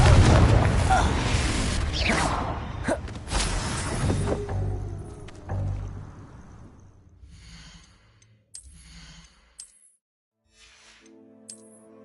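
A Confringo blasting spell bursts in Hogwarts Legacy amid loud combat effects, with a heavy boom early on followed by decaying rumbles and then sparse, quieter game sounds and chimes.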